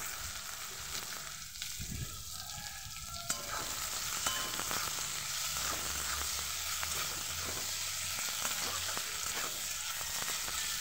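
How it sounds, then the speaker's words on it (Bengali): Chopped onion fries in rendered mutton fat, with no added oil, for a mutton and potato curry. A steady, dense sizzle runs throughout, broken by occasional stirring scrapes. "ভালোভাবে পেঁয়াজটাকে ভেজে নেব।"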